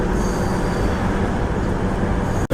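A DEMU passenger train running from Nandyal to Tirupati gives a steady, loud, close rumble of wheels and engine that continues without a break, ending with a sudden drop.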